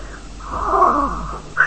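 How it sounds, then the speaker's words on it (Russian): A cartoon cat in an animated folk tale lets out a single drawn-out, close meow, rising and then falling. "Кот!"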